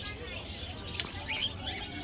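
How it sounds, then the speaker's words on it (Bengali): Small caged budgerigars chirp in scattered bursts amid a busy bird-market murmur, with a few brief high tweets standing out over the din. "দেখতে পাচ্ছেন সুন্দর সুন্দর কোয়ালিটিফুল বদ্রি পাখি রয়েছে"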